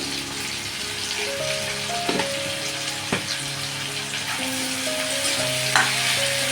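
Sweet corn sautés in oil in a pan, salted, with a continuous close sizzle and occasional spatula scrapes and taps, while a faint steady hum sits underneath.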